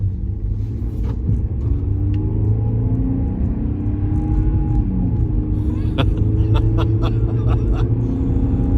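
Jeep Commander fitted with a Maxx Boost throttle upgrade driving on a road, with a loud steady low engine rumble and road noise from inside the cabin and a few light rattling clicks near the end.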